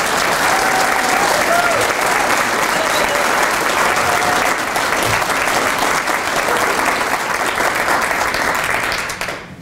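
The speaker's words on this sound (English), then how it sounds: "let's have a round of applause for this group of recipients" A large audience claps steadily and loudly for several seconds without letup at a medal presentation ceremony for recipients, then the applause begins to fade at the end.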